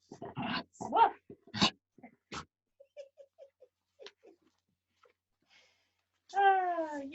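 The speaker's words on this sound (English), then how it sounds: "you are a funny dog, Smurf." A dog gives a series of short, close yips and soft whimpers with pauses between, ending in a longer, louder whining cry.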